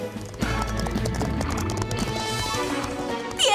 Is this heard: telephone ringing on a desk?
no